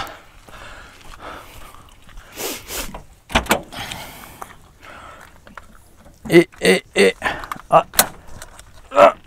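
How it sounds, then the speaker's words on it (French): Rear doors of a camper van with a bike rack being swung fully open, with latch clicks and a run of sharp, close clunks and knocks in the second half. "je déconnecte la porte et je peux ouvrir entièrement la porte"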